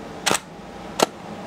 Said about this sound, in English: So all you have to do is take a picture, and after you've taken the picture, advance the shutter.